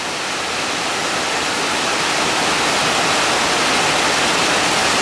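Steady rain falls outdoors on a farm pasture where a cow stands in the open, a dense, even hiss that stays loud and unchanging throughout with no voices.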